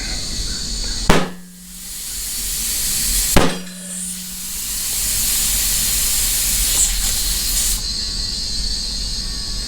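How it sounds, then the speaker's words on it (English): Loud air hissing steadily while a large, wide tire on a large-diameter wheel is inflated on a Harbor Freight changer with a duck head mod, broken by two sharp bangs near the start as the bead seats, with no talking. "We're going to take them up to 45 psi and then let them stabilize, and then we'll set the pressure after that."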